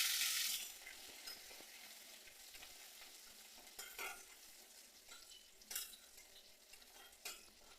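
Black mustard seeds and chopped garlic frying in a pan, a soft, faint sizzle with scattered stirring scrapes and small pops, louder at the start and then settling, no voices.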